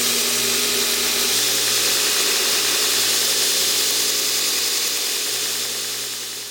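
A homemade 2x72 inch belt grinder runs with a loud, steady motor hum and belt whir, close and continuous, beginning to wind down slightly at the very end.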